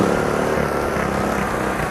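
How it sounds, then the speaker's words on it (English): A Dometic 3000 watt portable inverter generator runs steadily and loudly up close, a continuous even engine drone with no talk over it. "Okay, now we're going to start the Dometic 3000 watt generator."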